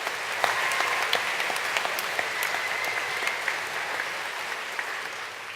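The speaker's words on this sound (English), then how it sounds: "Come on, let's have a round of applause." Graduates and their audience applaud at a Portsmouth Business School graduation ceremony, a steady moderate round of clapping with scattered sharper claps standing out, heard from a slight distance throughout.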